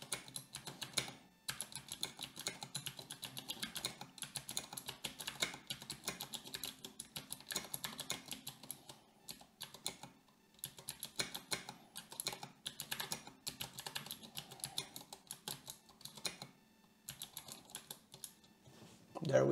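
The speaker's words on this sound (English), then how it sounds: "let's do a little typing test" Fast typing on a custom mechanical keyboard during a typing test: rapid clacky keystrokes in bursts with short pauses, fairly quiet and close, no talking.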